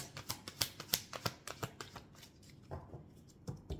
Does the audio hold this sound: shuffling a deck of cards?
yes